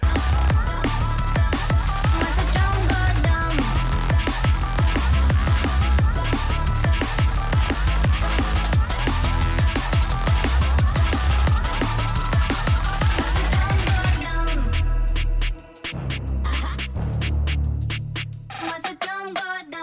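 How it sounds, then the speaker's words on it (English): Dense, loud music with a deep booming 808 bass tone layered with distorted electric guitar, driving continuously before a brief drop and a heavy bass hit near the end. "that like bass sound right there, that's created by I think combining an 808 with like an e-guitar"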